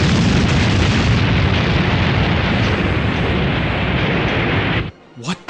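A sustained, roaring explosion of cannon fire in a fleet battle scene from a radio-style audio drama, loud and dense for about five seconds before cutting off abruptly into a brief quieter tail.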